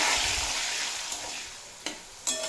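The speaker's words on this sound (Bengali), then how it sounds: "এবার ওই তেলেই ভেজে নেব উচ্ছে।" Bitter gourd frying in oil with a little salt, a steady soft hiss of sizzling across the pan with a few brief sharper crackles or utensil clicks near the end, close and moderate in level.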